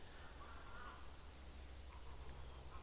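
Birds call faintly in the forest at Boserup Skov, a few distant caws and chirps against a soft, steady outdoor hiss.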